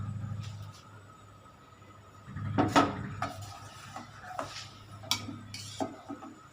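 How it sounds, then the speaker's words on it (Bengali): A spoon stirring milk with coconut in a pot for malai kulfi, soft intermittent scraping and clinks against the metal, fairly faint and close, with quiet gaps between strokes. "এবার আবার নাড়তে থাকি কিছুক্ষণ"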